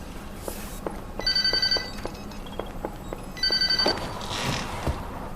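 A telephone ringing indoors, two bursts of rapid electronic bell trills separated by a pause, over a soft background of ambient noise.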